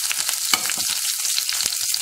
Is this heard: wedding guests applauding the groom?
no